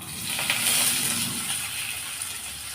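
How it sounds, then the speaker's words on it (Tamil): Steady sizzling of finely chopped onions frying in hot oil, a dense hiss with a few soft crackles, close and continuous. "அடுத்ததாக பொடியாக நறுக்கின வெங்காயம் சேர்த்துடலாம்"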